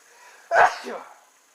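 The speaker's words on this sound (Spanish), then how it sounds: "Voy a estornudar." One sharp human sneeze, a sudden close burst with a short trailing tail, alone in a quiet room.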